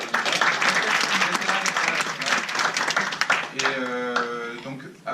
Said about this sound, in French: je pense qu'on peut applaudir Nika